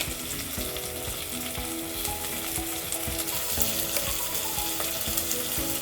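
Grated ginger, garlic and cumin seeds frying with onions for egg biryani, giving a steady, loud close sizzle with soft stirring scrapes throughout, over faint background music.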